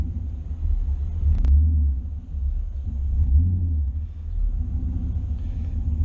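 A tuned Camaro race car idles roughly and unevenly, a close, deep rumbling burble that surges and sags with no one talking.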